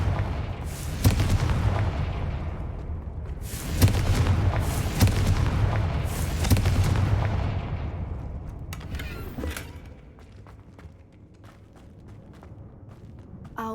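Confringo blasting spell in Hogwarts Legacy, several heavy booming blasts in a row with crackling debris, then fading to quieter rumble and faint footsteps.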